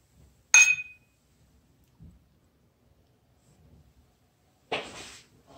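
Glasses clink at a whiskey toast: one bright, sharp chime near the start, then a quieter stretch and a second, softer clink a few seconds later.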